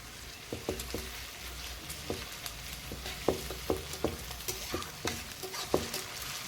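Onion, dried red chillies and garlic paste sizzle in a pan over a traditional home clay stove, with steady frying hiss and repeated sharp stirring scrapes in an irregular rhythm, close and moderately loud, no talk.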